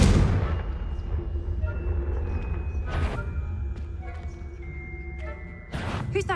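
A Confringo fire-blast spell goes off in the game Hogwarts Legacy with a loud opening boom that rumbles down. Sharp bright crackles and magical chimes follow at about three and six seconds, over a steady low drone of game ambience.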